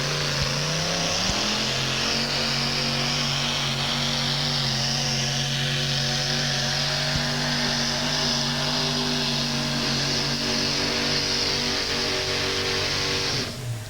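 The Motown Missile monster truck, racing at a 1987 USHRA event in Buffalo, holds a loud, steady engine roar for about fourteen seconds with a sustained droning pitch, then cuts off sharply at the end.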